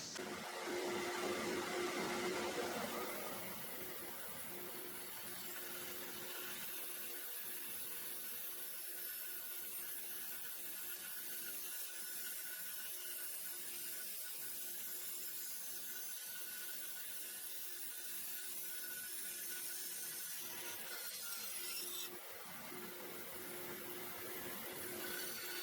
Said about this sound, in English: And then I'm going to take it over to the bandsaw here.